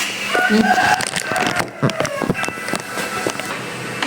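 Chickens around a rice patch on a farm, a rooster crowing loudly nearby with scattered clucks and pecking taps, a voice talking faintly in the background.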